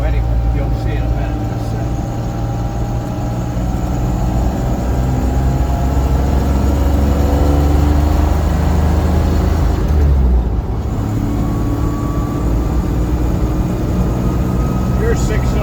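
A 1966 Land Rover 109 with a six-cylinder engine accelerating on the road, a loud steady engine drone that rises in pitch as it speeds up, under heavy wind and road noise.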